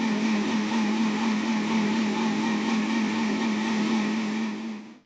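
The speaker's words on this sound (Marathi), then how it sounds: "आता आपण एकदा मिक्सर लावू।" A mixer grinder whirs steadily as it blends muskmelon with milk and sugar, a loud continuous motor drone that holds even, then winds down at the very end.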